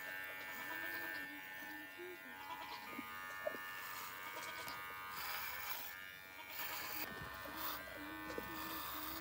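Goats on a farm bleat now and then at moderate distance with wavering cries, over a steady electric buzzing hum, while people talk nearby.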